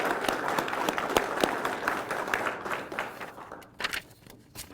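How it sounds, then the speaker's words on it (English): Audience applause at a 2020 law enforcement academy graduation honouring the executive staff: dense, steady clapping from a crowd that thins toward the end, with a few sharper nearby claps standing out. "So a round of applause for executive staff"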